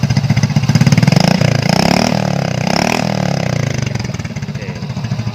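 A smoking motorcycle being worked on revs loudly and close up as the throttle is opened, its rough pulsing roar rising and falling, with brief talk underneath.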